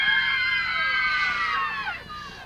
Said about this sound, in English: You're gonna scream like a woman in the night